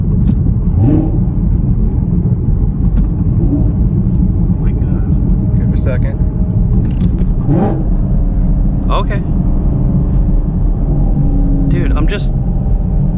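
A car engine pulls hard in second gear, a loud, steady, deep rumble that fills the whole stretch, with brief voices faintly over it.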